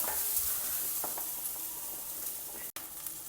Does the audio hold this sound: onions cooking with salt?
yes